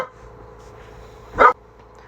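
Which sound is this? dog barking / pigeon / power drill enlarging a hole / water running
dog barking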